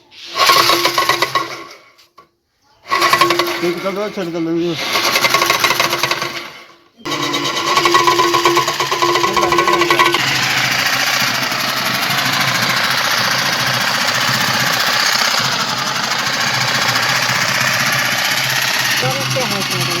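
A kitchen grinder runs loud and steady for about ten seconds after short bursts of starting and stopping, grinding spices for a Muharram niyaz meal. Voices talk briefly over the first bursts.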